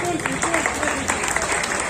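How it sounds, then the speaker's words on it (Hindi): Audience applause at an awards felicitation ceremony, a brief burst of steady clapping from a crowd, fairly distant, with voices mixed in. "इसीलिए एक जोरदार तालियों मैदा के।"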